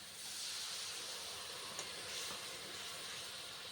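Water poured into a hot pan while cooking koi fish curry sends up a steady, broad steam hiss that holds evenly for several seconds with no voices.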